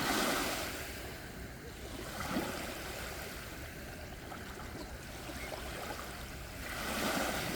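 Calm sea waves wash in with a soft, steady hiss, gently swelling and receding at the start and end, an even surf noise with no voices.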